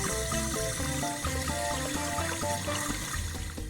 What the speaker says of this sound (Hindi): वैन में से फायरमैन उतर के पानी मारने लगा।